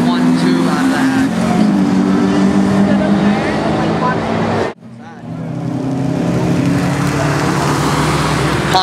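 Drag race launch between a Honda hatchback and an Acura RSX Type S, engines roaring loud and steady with rising pitch, a sharp cut near the midpoint, then engine noise resuming, with a commentator talking over it.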